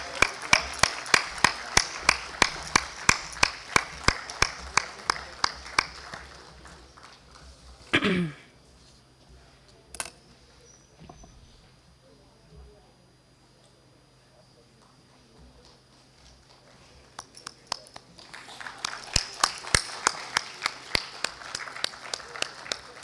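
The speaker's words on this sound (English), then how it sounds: "Please welcome him with a huge round of applause, ladies and gentlemen" Conference audience at CHEMCON-2024 claps in slow, synchronized rhythmic beats, a run of evenly spaced loud claps that fades into a quiet stretch, then builds back into unison clapping at the end.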